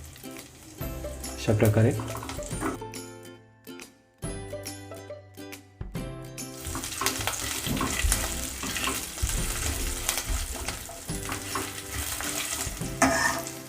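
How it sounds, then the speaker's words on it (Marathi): Green chillies frying and being stirred in hot oil for upma, a steady sizzle with scraping of a spoon in the pan, briefly paused, with a voice speaking over parts of it. "त्यानंतर त्यामध्ये आपल्याला हिरवी मिरची टाकायची आहे."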